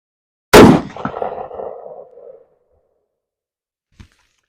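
One loud rifle shot of M855 ammunition cracks sharply and rolls off in a long echoing tail, followed seconds later by a single faint metallic click.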